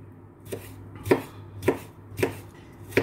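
Knife chopping tomatoes on a cutting board for a salad, about five evenly spaced, crisp close thuds, with quiet pauses in between.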